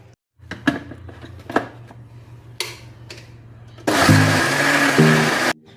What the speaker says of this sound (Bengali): আমি মিক্সিতে এটা একবার ঘুরিয়ে নিয়েছি, দেখো কতই স্মুথ হয়েছে।